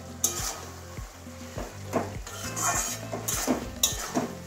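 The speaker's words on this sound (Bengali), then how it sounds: "ঘি গরম মশলা ভালো করে মিশিয়ে দিয়েছি" A spoon stirs cabbage curry frying in ghee with garam masala, with a steady sizzle and repeated scraping and clinking against the pan in irregular strokes, close and moderately loud.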